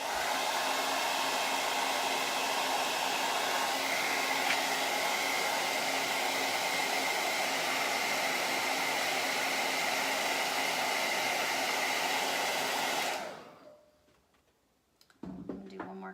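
A hair dryer blows steadily and loudly at close range to dry paint on a mason jar, running continuously for about thirteen seconds before switching off, followed by faint handling clicks.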